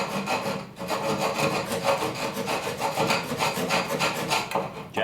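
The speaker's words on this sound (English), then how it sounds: "Japanese saws cut on the pull stroke." A Japanese pull saw cuts through wood in quick, rhythmic rasping strokes, each one a close, gritty scrape that repeats steadily with no talking over it.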